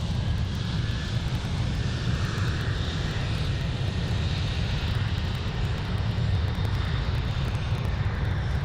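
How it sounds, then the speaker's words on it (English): A KLM airliner's engines spool up at Amsterdam airport, giving a steady, distant rumbling roar with a faint high whine above it, continuous throughout. "That KLM's going to Lisbon, Portugal. And there it goes, just spooling up"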